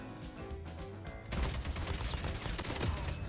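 Rapid gunfire from the mobile shooter game Call of Duty Mobile bursts in suddenly after a quieter opening and continues as a dense, sustained volley of fairly faint shots.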